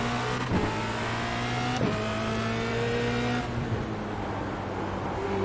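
Formula Renault 2.0 race car engine in the iRacing simulator, a loud buzzing engine note rising and falling through gear changes and braking into a corner, with brief sharp shifts.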